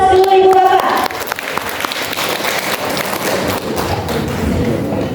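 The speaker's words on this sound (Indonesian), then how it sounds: "Kita berikan aplaus dulu Ibu Bapak." Audience applause at a talk show event on deep learning in Jeneponto, rising after a brief tonal opening into a dense, steady wash of clapping that fills the room for several seconds.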